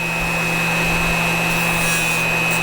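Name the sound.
Dremel rotary tool grinding wire on a grinding wheel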